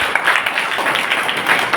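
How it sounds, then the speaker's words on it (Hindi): An audience at a student summer camp in Balrampur, Chhattisgarh claps for a Chhattisgarhi film, a loud, steady wash of many hands throughout the short stretch. "तो एक बार जोरदार ताली हमारे छत्तीसगढ़ की फिल्म के लिए।"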